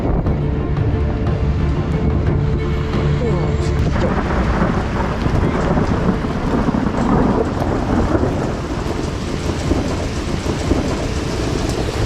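Heavy rain roars steadily with deep rumbling thunder and powerful gusting wind in a violent December thunderstorm in the Somme, France, loud and close throughout.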